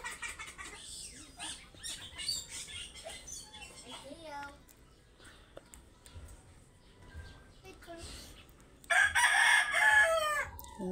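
A rooster crows loudly near the end after a stretch of clucking fowl and voices talking in the background.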